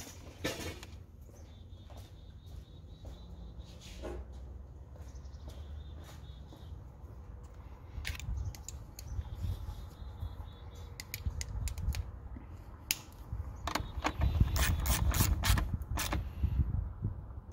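A quarter-inch ratchet tightens a 10 millimeter nut at the fuse box of a 2012 Ford F150 Raptor, with bursts of rapid close clicking that grow louder and busier toward the end, and no voices.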